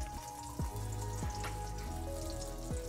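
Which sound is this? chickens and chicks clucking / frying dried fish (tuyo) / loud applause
frying dried fish (tuyo)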